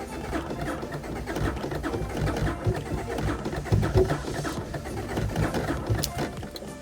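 A Honda Civic engine cranks without catching, its starter churning in a steady, uneven rhythm with irregular firing-like knocks, loud and close throughout.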